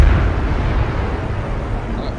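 Artillery shells explode in the Arma 3 video game, a heavy continuous low rumble and roar that stays loud throughout, with no clear separate blasts.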